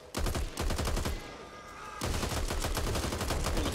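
Gun hip fire in the zombie shooter Back 4 Blood: rapid, loud, close automatic bursts, a brief pause, then another sustained stream of shots.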